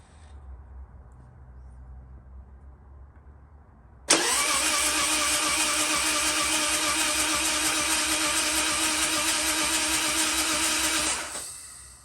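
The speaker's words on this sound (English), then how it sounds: "And now we're going to prime the oil pump and circulate the oil." A Harley-Davidson Twin Cam 88 motorcycle engine cranking over on the starter to prime the oil pump, a loud steady whirring churn starting abruptly after a quiet stretch and running for about seven seconds before cutting off.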